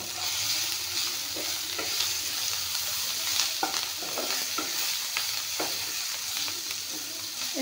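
Curry leaves hit a pan of frying fish head and are stirred through, giving a steady loud sizzle with repeated scraping stirs and clinks throughout.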